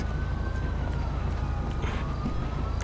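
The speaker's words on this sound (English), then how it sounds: "I hear a siren over there too." A police siren wails faintly in the distance in Grand Theft Auto V with a police patrol mod, a thin rising and falling tone under low, steady background rumble.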